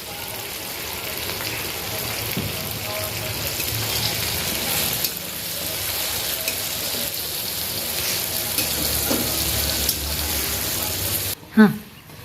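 Onion, tomato and capsicum with half a spoon of salt sauté in a pan for Indian-style masala macaroni, a steady close sizzle with light stirring that ends in a sharp clatter of utensils.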